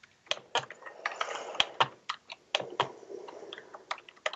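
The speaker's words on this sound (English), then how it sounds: "I'm just typing to this beautiful person here." Typing on a computer keyboard, with irregular bursts of sharp, close key clicks and taps, fairly quiet, no voices over it.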